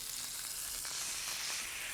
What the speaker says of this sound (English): All that's left to do is fry it.